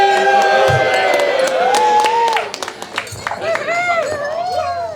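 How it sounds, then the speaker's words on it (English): Wedding guests cheer and applaud after a toast to Andrea and Hunter, a burst of clapping under loud whoops and shouts that thins briefly, then swells again with more cheering. "Big round of applause"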